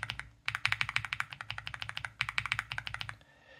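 Rapid, steady typing on an Epomaker Galaxy 80 mechanical keyboard fitted with Gateron Milky Yellow V2 switches, close and fairly soft, a continuous run of clacky keystrokes.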